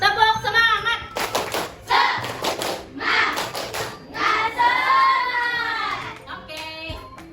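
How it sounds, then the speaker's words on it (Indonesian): Classroom children do a rhythmic spirit clap, chanting together between bursts of patterned hand claps and thumps in a lively call-and-response rhythm, close and loud, with a teacher's voice briefly leading. "kita tepuk semangat dulu"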